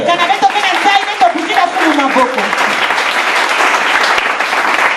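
A church congregation breaks into steady, dense applause that fills the room, with raised voices mixed into the clapping throughout.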